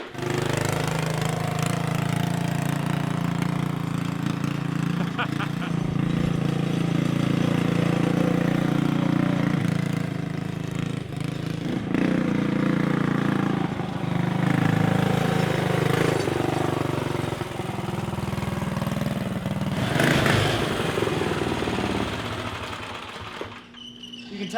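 A monster truck kart's small engine on 25-inch ATV tires drives steadily, a loud, rough continuous drone with rising and falling revs throughout, close by.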